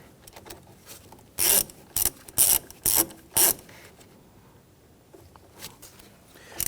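A ratchet snugs down the securing nut on the oil pressure switch of a 2011-2015 Kia Sorento, giving five short, loud, close bursts of clicking, with quiet handling noise before and after.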